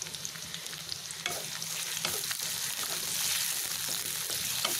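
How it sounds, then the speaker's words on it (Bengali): Onion frying with dried chilies in a pan for a Bangladeshi bean and papaya bharta: a steady close sizzle with stirring scrapes and soft crackles, no voices. "এবারে পেঁয়াজটাকে ভালোভাবে ভেজে নিব। এর মধ্যে দিয়ে দিব শুকনা মরিচগুলো।"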